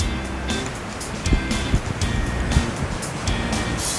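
Sengkuang waterfall in Bengkulu, Indonesia, pours with a steady, loud rushing roar that fills the scene, with gusts of wind buffeting the microphone now and then.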